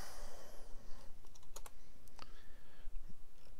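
Typing on a computer keyboard, a steady run of close, crisp key clicks with a few sharper taps, alone without any talk.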